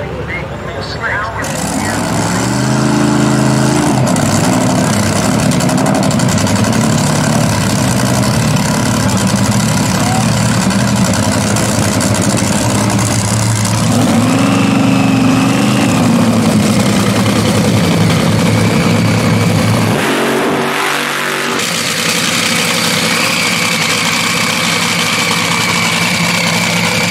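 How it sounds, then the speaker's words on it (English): Top fuel dragster engines roar at a drag race, a loud continuous low rumble with rising and falling pitch as cars run down the strip, a brief dip near the end before the roar resumes, with a commentator talking over it. "these two top fuel dragsters on the car as they go down the racetrack"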